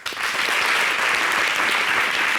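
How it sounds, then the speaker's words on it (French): A TV studio audience on a talk show breaks into loud, dense applause. The clapping is continuous and even throughout the short stretch, with no voices on top. "Ça s'applaudit."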